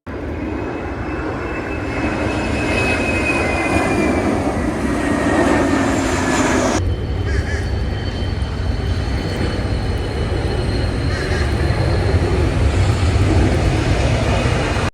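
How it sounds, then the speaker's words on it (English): Airplanes flying low overhead above a botanical garden, a loud continuous jet engine roar with a whining tone that drifts downward, then a second aircraft's roar taking over and holding steady to the end, recorded without voices. "take a listen to what these planes sound like without my mic on"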